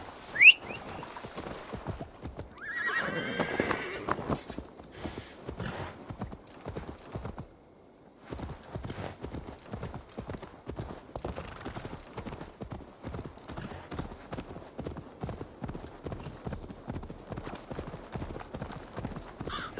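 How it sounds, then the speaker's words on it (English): A horse trots in Assassin's Creed Valhalla, steady rhythmic hoofbeats clip-clopping close by, with a brief whinny and breathy snort early on and a short pause before the hooves resume. "maybe we should go on a horse"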